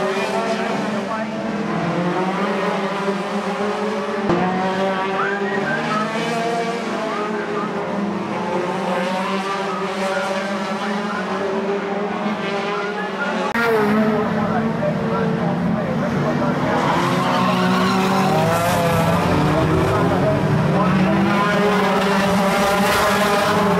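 Banger cars and National Hotrods race around a small oval at Aldershot Raceway, their engines roaring continuously with rising and falling pitch and sometimes squealing tyres. Someone talks over the noise throughout.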